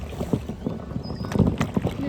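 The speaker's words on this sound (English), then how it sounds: "Oh, I'm scraping the bottom." An inflatable kayak scrapes and bumps along a shallow river bottom in irregular close rubbing bursts, with light wind noise and movement on the water.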